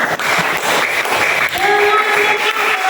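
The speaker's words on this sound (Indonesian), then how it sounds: "tepuk tangan kelompok 1." A class of teachers in a supervision and coaching workshop claps for a presenting group, a moderately loud burst of hand clapping with a bright tone entering midway and a few voices mixed in.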